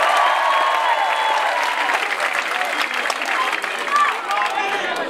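Applause from a concert crowd at a live show in Athens, continuous dense clapping with cheering voices and occasional whistles, loud and sustained for several seconds.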